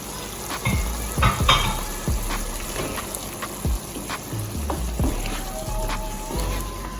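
Baked beans fry in a pan with a steady close sizzle, broken by several sharp clanks and scrapes of stirring; no one speaks.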